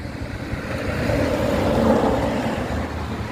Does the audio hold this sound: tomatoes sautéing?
no